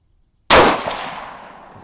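A single loud, close gunshot from a Howa Oryx rifle in an MDT Oryx chassis at a precision shooting range, a sharp crack after silence followed by a long fading echo.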